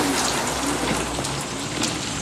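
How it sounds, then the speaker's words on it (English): Steady pouring rain from a played movie scene, a dense, loud, even hiss of drops hitting surfaces throughout, with no voices. "Right now, it's pouring rain."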